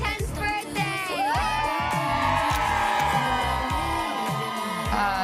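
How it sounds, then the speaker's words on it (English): A happy crowd on the TODAY Show's outdoor plaza cheers and whoops, with loud, dense shouting and excited children's voices that keep going without a break. "A pretty day out on our plaza. Happy crowd."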